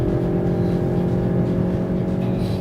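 A Volkswagen Golf GTI turbo engine pulls hard on a race track, a loud steady droning engine note with a strong low hum and whirring overtones, no talking.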